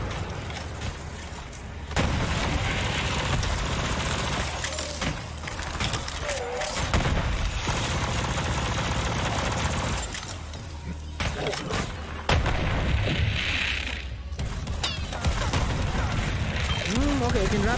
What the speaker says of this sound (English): I can rapid fire the shotgun